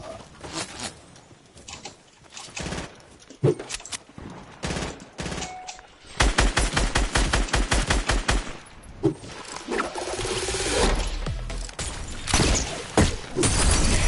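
Rapid gunfire bursts in a Fortnite duos match, loud and close, with repeated sharp shots and shattering impacts through most of the stretch, and a denser volley after the first few seconds.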